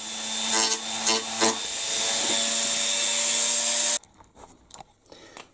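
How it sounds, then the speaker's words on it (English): A Dremel rotary tool shortens a small pipe for a Heng Long Atlantic Yacht model's rudder. It gives a loud, steady high-pitched grinding whine with a few scraping bursts, then cuts off sharply and leaves faint handling clicks. "I'll just use the Dremel for that."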